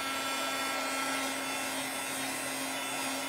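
A hair dryer runs steadily at close range, drying a dog's coat during grooming, with a constant loud whooshing hum and a fixed motor whine, no voices.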